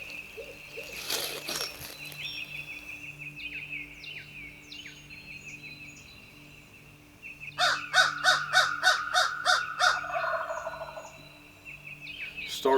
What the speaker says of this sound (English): The bird came in strutting, gobbling, spitting, drumming, and did it right for that guy on his very first hunt.